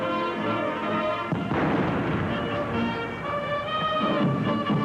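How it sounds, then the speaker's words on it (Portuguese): Deep booming ceremonial cannon salute shots sound out over a large outdoor crowd noise, with a brass band playing the national anthem underneath; heavy, distant reports. "Eles foram saudados por tiros de canhão e pelo toque do hino nacional"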